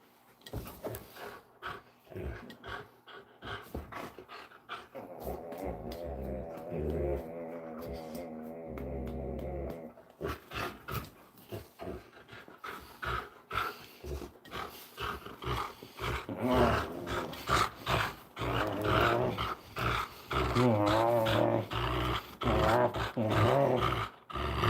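A dog growls and snarls in bursts, fairly close and loud, with a steady low roaring rumble through much of it and no talk over it.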